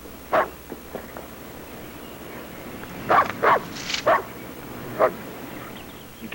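A dog barks in short, sharp yips and whimpering bursts, several spaced calls with a cluster in the middle, heard at moderate distance against a quiet indoor background.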